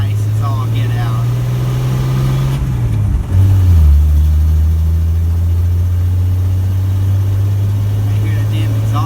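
A car engine with an exhaust leak after a clutch replacement idles steadily nearby, its low drone dipping briefly as the revs shift midway before settling back into an even idle.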